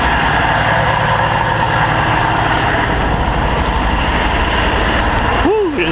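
A truck engine idles after a cold winter start, a loud steady roadside rumble up close with a faint whine near the end.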